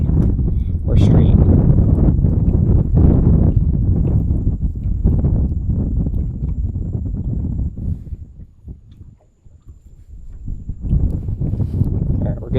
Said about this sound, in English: You might be able to tell it's getting a little breezy here